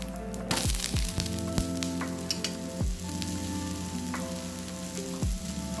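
Adai dosa fries in oil on a pan, a close, crackling sizzle punctuated by several sharp pops and spatula scrapes at irregular intervals, with no one speaking.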